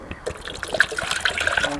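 Water trickles and splashes into the water tank of a Nescafe Dolce Gusto coffee machine, a short, close, steady pour with small gurgles and no talking.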